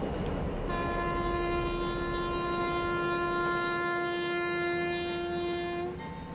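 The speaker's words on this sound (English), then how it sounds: "The train horn blast tells us we're leaving San Francisco" A passenger train leaving San Francisco sounds a long, loud, sustained horn blast that holds steady for several seconds over the rumble of rolling rail cars, then cuts off.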